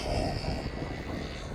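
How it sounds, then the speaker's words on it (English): A Ryanair airliner passes by at East Midlands Airport, a steady, fairly distant engine roar with a faint whine holding even throughout, heard alone without talking. "Here comes this Ryanair as it's passed in front of that Air"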